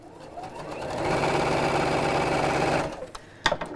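Sewing machine stitching close along the piping cord of a lined cushion cover: a steady, close mechanical whir runs for about two seconds, then stops, followed by a few small clicks and handling noises.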